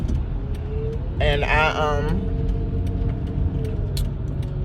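Road traffic rumbles steadily outside a moving car, a low continuous drone heard from the cabin, with a short burst of speech partway through.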